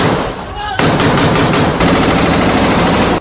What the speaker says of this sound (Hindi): वीडियो में इजराइल के सैनिक जबालिया कैंप के अंदर फायरिंग करते दिखे